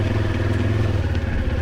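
A Moto Morini X-Cape 700 rolls slowly over loose stones, its mid-pitched engine pulsing steadily up close with faint gravel clatter beneath, no talking.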